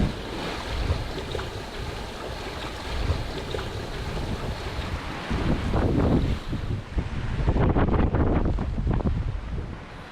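Squall wind on a sailboat at sea, with strong gusts buffeting the microphone and a roaring rush that builds over splashing waves and hull noise.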